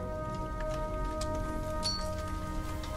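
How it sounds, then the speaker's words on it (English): Rain falls steadily in a Thomas & Friends animated episode, a constant patter mixed with sustained background music. "Looks like we're in for a bit more rain than we bargained for."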